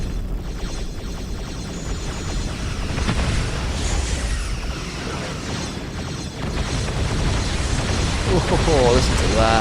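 Starship weapons fire in the video game Star Trek Continuum, a dense continuous rumble of booms and bursts with a whooshing sweep near the end. A voice talks over it.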